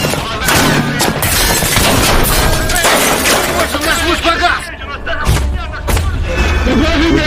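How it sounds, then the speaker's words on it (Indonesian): Gunfire and mortar strikes hit a military fortress in a war film, with dense bursts of shots, thuds and booms mixed with music and voices throughout. "tewas tertembak karena tembakan dari arah luar, yang kemudian dibarengi dengan serangan mortar hampir di semua sisi benteng pertahanan militer"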